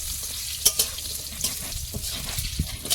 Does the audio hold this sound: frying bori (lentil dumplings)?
yes